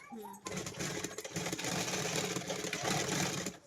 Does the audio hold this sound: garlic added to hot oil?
no